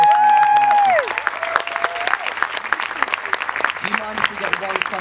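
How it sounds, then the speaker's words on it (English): Applause from a crowd at an interview event, with clapping and some cheering that rises after a sustained tone and continues under a speaking voice, then music-like tones. "Let's get a round of applause."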